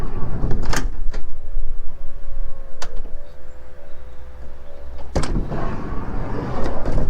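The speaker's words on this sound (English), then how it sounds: "Soft closed doors." Car doors with soft-close latches shut, sharp thumps and clicks at intervals with brief mechanical whirring between, close by over a low rumbling background and no speech.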